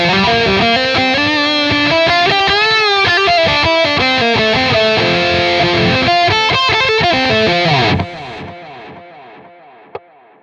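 Distorted electric guitar through the tape echo effect of a NU-X MG-30 processor, busy melodic lines with repeating echoes, then the playing stops and decaying repeats and faint string noises trail off.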